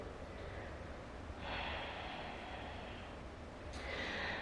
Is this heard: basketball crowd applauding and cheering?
no